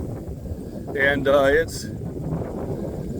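Strong gusts of wind buffet the microphone outdoors while a person walks into the wind, a heavy low rumble swelling and falling under brief talk.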